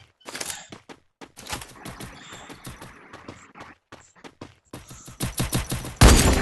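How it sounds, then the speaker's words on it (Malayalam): Rapid bursts of gunfire from the Free Fire video game come in clustered volleys, loud and close, building to a dense barrage at the end. "വെടി വെക്കടാ വിഷ്ണു"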